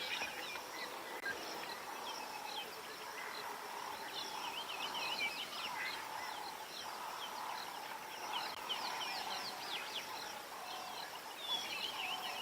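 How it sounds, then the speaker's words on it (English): Birds call and chirp repeatedly at a distance over a quiet, steady outdoor background, with faint insect-like buzzing. "all I can hear really is the birds calling"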